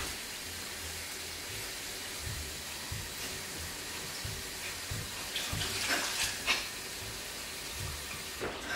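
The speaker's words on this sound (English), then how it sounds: "there's rice floating, so you gotta, you know, drain that out." Water drains out of a pot of rice in a home kitchen as a steady, quiet hiss and trickle, with soft irregular clunks and splashes over several seconds and no talking.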